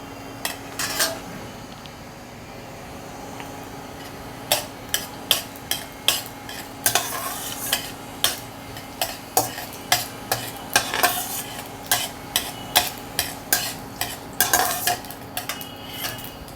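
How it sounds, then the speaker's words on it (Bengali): Mustard seeds tempering in hot oil in a kadai, with a soft sizzle under a run of sharp repeated metal clinks and scrapes from a spoon stirring against the pan, close and clear. "কড়াইতে দিয়ে দিচ্ছি সর্ষে ফোড়ন।"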